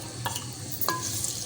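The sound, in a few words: sliced onions added to hot oil, frying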